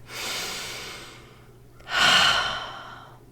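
A slow inhale followed by a fuller, breathy exhale, close and quiet, taken during a calm guided pause in a mindset talk, with no speech.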